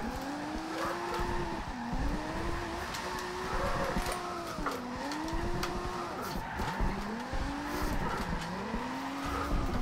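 A car drifting in Forza Horizon 2: a revving engine whose pitch repeatedly climbs and drops through gear changes, with sustained tire squeal and skidding throughout, steady and close.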